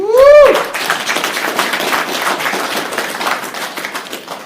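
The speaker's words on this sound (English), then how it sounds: "I honestly believe that also needs a round of applause." Clapping from a town-hall meeting audience in Philadelphia, a dense, steady patter of many hands that starts right after a brief whistling tone and continues fairly loud for several seconds with no speech over it.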